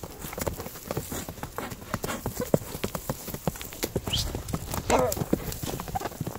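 A horse's hooves clip-clop in a quick, steady rhythm on hard ground, fairly close, with people talking over the sound and a brief whinny-like call near the end.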